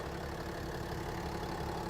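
A 6.7-liter inline-six Cummins turbo diesel idles in a Ram 3500 Longhorn Crew Cab, giving a steady, even rumble that runs unbroken and close for the whole stretch.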